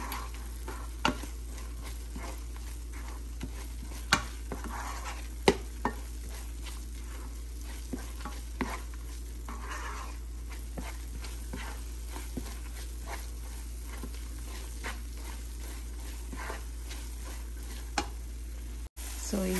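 Beetroot burfi mixture is stirred in a pan with ghee, a soft steady sizzle running throughout with a regular series of scraping spoon strokes against the pan.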